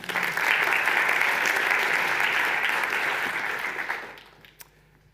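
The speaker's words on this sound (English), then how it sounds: "Round of applause for Lanks." An audience at a startup demo day gives a sustained round of applause that holds loud and steady for about four seconds, then fades to a few scattered claps and near silence.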